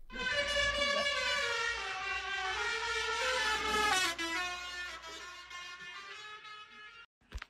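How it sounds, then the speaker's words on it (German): A loud horn-like tone sweeps past and drops in pitch as a car passes with a Doppler shift, then fades and cuts off near the end. "warum das jetzt sich so immer anhört, wenn ein Auto oder eine Sirene an euch vorbeifährt"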